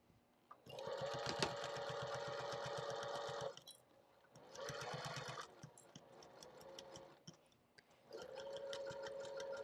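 A sewing machine stitches the side of a zipper pouch in three steady, rapid runs separated by short pauses. The mechanism is close but fairly quiet, with no voices.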